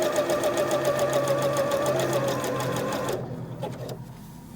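Sewing machine running steadily through fabric on a zigzag stitch, a close, loud, continuous rhythmic whir that slows and stops near the end.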